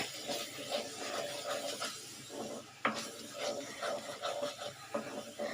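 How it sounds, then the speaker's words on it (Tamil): Macaroni mixture being stirred in a pan with a spoon, faint scraping and rubbing strokes in an uneven rhythm, with one sharp knock midway, close up and quiet. "அதையும் ஒரு கிண்டிப்போங்க."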